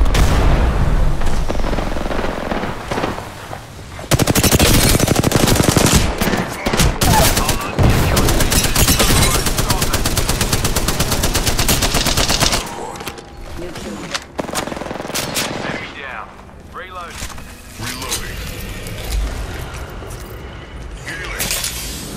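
Video game gunfire erupts in dense, loud rapid-fire bursts with heavy booms, breaking off into quieter scattered shots and mechanical clatter, with voices mixed into the action.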